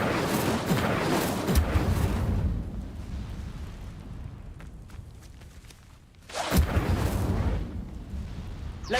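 A fire spell roars out in Hogwarts Legacy, a loud rushing burst of flame lasting a couple of seconds, then a quieter stretch before a second blast erupts, with no voices over it.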